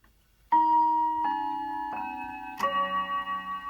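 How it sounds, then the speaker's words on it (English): A 1954 Smiths Sectric Grand Tompion Westminster chime electric clock strikes four clear, ringing chime notes in steady succession after its hands are pushed past the quarter hour, close and resonant with a lingering tone. "I'll just push it past the quarter past so you can hear how it sounds. You'll hear it click."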